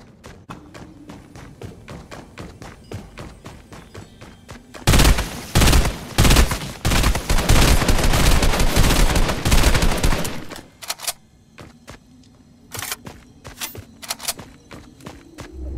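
Video game gunfight, first a run of sharp separate shots, then several seconds of dense rapid automatic fire, then scattered shots again, with light footsteps and thuds between bursts.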